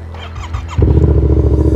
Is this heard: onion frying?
no